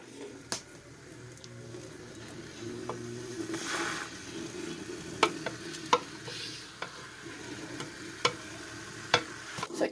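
Picanha beef searing fat side down in a small pan, a soft continuous sizzle with occasional sharp utensil clicks and taps spread across the span, close and quiet, with no talking.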